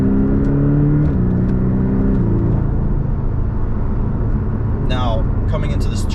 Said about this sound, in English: I'm gonna put it in Sport Plus, and you can hear it kind of revving up